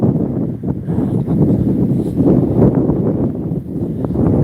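Strong gusty wind buffets the microphone on a woodland walking path, a loud, rumbling, uneven roar with surges and dips and no voice over it.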